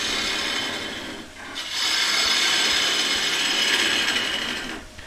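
Gouge cutting a thin-walled wooden bowl on a woodturning lathe: a continuous close, loud, rasping hiss with a brief dip partway through, then resuming steadily.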